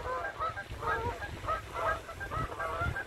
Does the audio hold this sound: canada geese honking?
yes